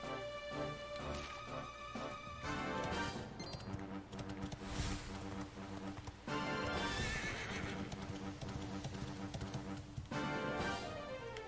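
A horse in the Dragon Quest XI video game neighs several times amid repeated clip-clopping hoofbeats, loud and close throughout.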